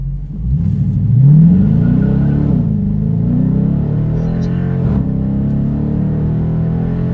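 A Dodge Challenger R/T or EcoBoost Mustang launches hard in a 0-60 run on the street, its engine rising in a loud rev through the gears, then settling into a steady, close rumbling drone.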